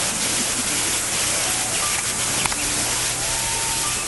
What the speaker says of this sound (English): Listen, would it be possible to turn off the waterfall?